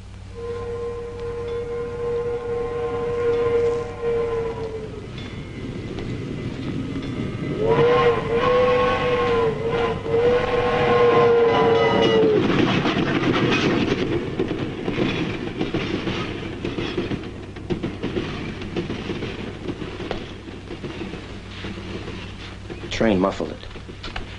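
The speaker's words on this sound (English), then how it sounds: "Train muffled it." A train rolls past, its steam whistle sounding loud and long twice over a steady rumble and clatter of wagons.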